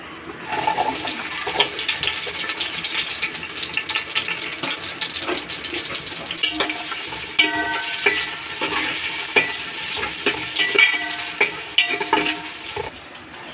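Chopped onions and green chillies sizzle and hiss in a pan for a mango fish curry, with steady frying crackle and occasional stirring scrapes, close and without speech.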